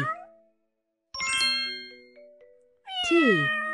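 A cat sound effect in a zoo alphabet video game: a short chime, then a bright ding, then a clear, close cartoonish meow at the end, separated by silence.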